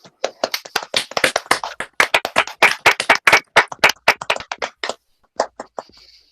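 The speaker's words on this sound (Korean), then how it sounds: "그러면 저희 모두에게 박수를 한번" A small group clapping during a Bible study session on Romans: a burst of sharp, irregular handclaps close by, continuing for several seconds, thinning out and stopping near the end.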